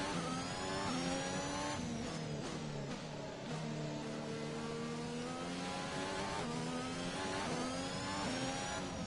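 Engines of F1 2021 racing cars in the video game howl loudly and continuously, near and constant, as pitch climbs and drops through gear changes in close pursuit at Hungary.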